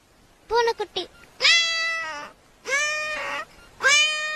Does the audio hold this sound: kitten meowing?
yes